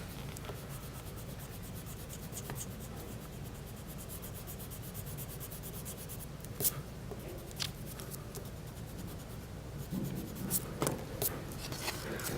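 An eraser rubs out pencil lines on a drawing of a barn with a sloped roof and fence, making a quiet, continuous close scratchy rubbing with small irregular ticks and a slightly stronger burst toward the end.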